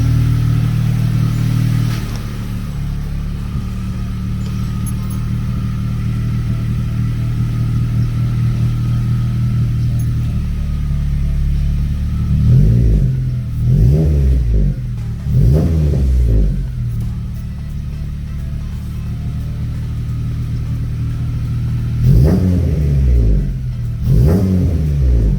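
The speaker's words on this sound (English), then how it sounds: "Give it some gas." An Acura ILX car engine idles with a loud low rumble, then revs up in several quick bursts, with a pair of rises around the middle and another pair near the end.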